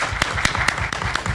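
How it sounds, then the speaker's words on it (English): An audience claps through a round of applause at a dialogue event, sharp individual claps standing out in a regular rhythm over a fuller bed of clapping, fairly close and steady. "hopefully raise a round of applause to everyone who put so much work into this event"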